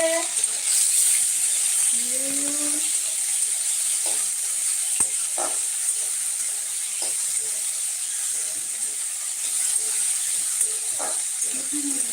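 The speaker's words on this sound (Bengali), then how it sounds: "এরপর আলুগুলো ভেজে নেবো" Potatoes frying in a pan, a steady high hiss of sizzling oil running throughout with occasional clinks and stirring scrapes, moderately close, while someone talks intermittently over it.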